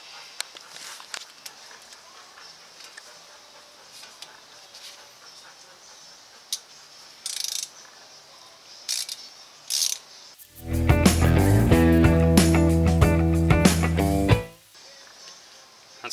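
A makeshift tool rig on a Silverado wheel hub whines loudly for about four seconds as it works a small bolt out, after quiet stretches of faint clicks and handling noises.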